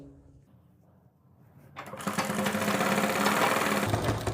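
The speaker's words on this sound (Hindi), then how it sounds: "हम जो सिलाई लगाएंगे वो लगाएंगे अपने कपड़े की इस वाली किनारी पर" A sewing machine runs stitches along the edge of a fabric piece for umbrella palazzo trousers, starting after a quiet lead-in and then holding a steady, close, whirring hum to the end.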